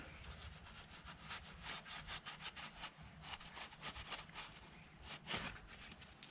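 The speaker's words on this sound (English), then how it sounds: "clean up this mounting surface here real quick, make sure there's no tape residue or any dirt or anything on it" A rag soaked in brake cleaner is rubbed quickly back and forth over the engine mounting surface of a BMW E46 330i, a close, faint, rhythmic scrubbing with no talk.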